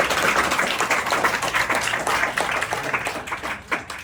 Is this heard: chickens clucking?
no